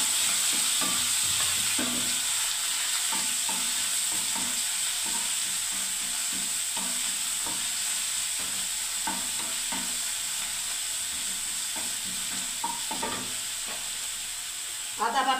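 Onion paste and whole mustard seeds fry in hot oil with a steady, dense sizzle throughout, while a spoon scrapes and stirs in occasional soft clicks and knocks.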